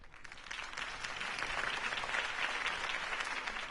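A crowd applauds a campaign speech for Harvey Dent, a steady wash of clapping at moderate distance that holds evenly throughout with no voices over it.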